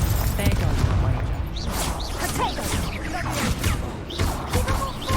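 Explosion spell cast in the video game Hogwarts Legacy, a dense burst of magical blasts and crashing impacts rolling over about five seconds amid a busy battle, with someone talking throughout.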